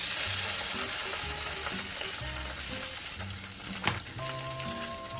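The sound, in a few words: crushed red pepper and tomato paste sizzling in a pan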